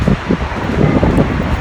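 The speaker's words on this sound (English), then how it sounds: "it's very windy, rainy" Strong, typhoon-like wind with rain roars and buffets against the microphone in a continuous loud rush, with low gusty rumbling throughout.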